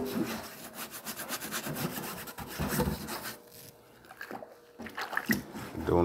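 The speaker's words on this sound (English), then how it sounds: "With a good scrub on both sides." Fish being scrubbed on both sides in a kitchen: a run of close, rough rubbing strokes with faint wet splashes, uneven in loudness, with a brief lull midway.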